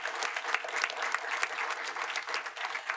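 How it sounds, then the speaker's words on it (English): Students at a school board of education meeting give themselves a round of applause, a steady, fairly quiet patter of many hands clapping in a room with a faint constant hum underneath. "Can you guys give yourselves a round of applause?"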